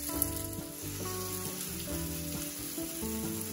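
Shredded potato, onion and egg fritters spread thinly in a pan of vegetable oil fry with a soft, steady sizzle and crackle, close and fairly quiet, with faint tonal background sound.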